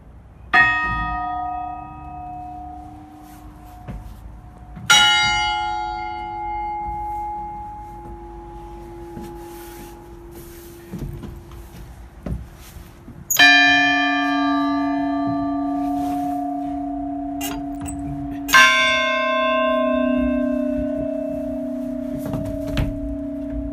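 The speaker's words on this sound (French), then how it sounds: "si je fais sonner ici la cloche une envolée" A church bell programmed for the Angelus struck four separate times, each strike clanging loudly and then leaving a long, ringing hum that fades slowly between blows, with no voices.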